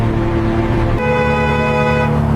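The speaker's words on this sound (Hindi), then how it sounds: "इतना तेज हॉर्न बजा रहा है" A car horn on a road honks loudly and close, one long sustained blast that shifts pitch partway through and continues to the end.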